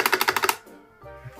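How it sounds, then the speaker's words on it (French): Mechanical keyboard keys clacking in a quick run of about eight sharp, close taps, then a quieter pause with faint low sounds. "écoutez, la barre d'espace"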